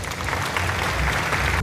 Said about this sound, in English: Let's present an applause for him